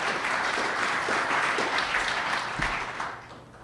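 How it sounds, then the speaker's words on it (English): Audience applause at a public event, a dense wash of clapping from a crowd that holds steady and then fades over the last second. "Let's give us a round of applause for that."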